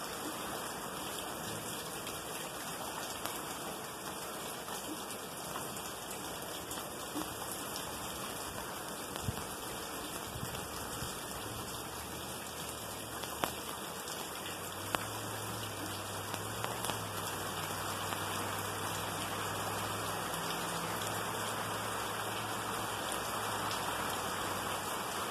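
Steady rain falls in Lake Elsinore, California, during the first rain of November, a constant soft hiss of drops on surfaces, fairly faint and even throughout with no voices.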